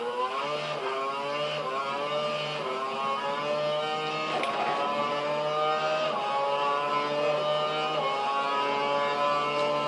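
A Formula 1 car's engine in the F1 2012 racing game, driven with no assists, revs high and shifts gears repeatedly, its whining pitch climbing and dropping in steady sweeps for about ten seconds, loud and unbroken.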